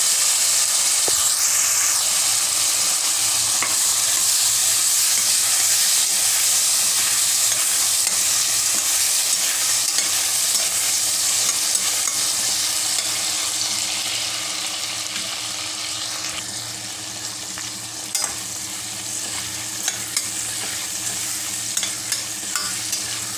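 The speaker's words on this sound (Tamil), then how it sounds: "தக்காளி நல்லா வதங்கிடுச்சு." Tomatoes sizzle and fry steadily in a hot pan, a constant hiss with occasional faint stirring clicks, fading slightly toward the end.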